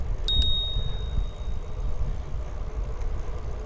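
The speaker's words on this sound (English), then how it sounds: "I like clicking the bell." A bicycle bell on a Ride1Up Roadster V2 e-bike gives two quick bright dings near the start, ringing out over steady road and wind rumble while riding.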